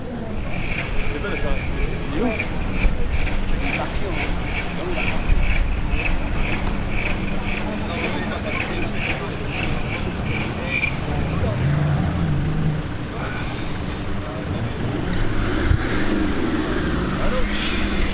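Cars pulling away one after another from a large supercar gathering of Ferraris, Lamborghinis and McLarens, steady engine and traffic rumble throughout with a crowd talking over it.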